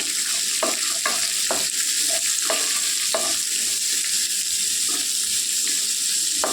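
Dried and green chillies, onion pieces and chilli powder fry in a pan with a steady, loud sizzle, punctuated by repeated clinks and scrapes of a stirring spoon; no one speaks.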